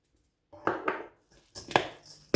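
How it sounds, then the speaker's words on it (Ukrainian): A knife chops dill for a cold summer soup, landing a few sharp, close knocks on a board in two short bursts with quiet gaps between them. "Тепер подрібнюю кріп."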